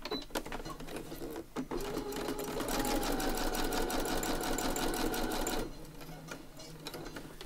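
Sewing machine stitching through junk journal pages made from an old Edith Holden book, close and fairly loud, with a few short stitches, then a steady run of rapid stitching that stops abruptly.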